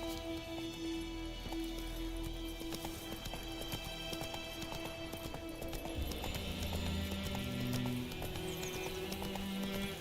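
Roach the horse trots in Witcher 3, a steady rhythmic clip-clop of hooves running under game music and ambient background throughout.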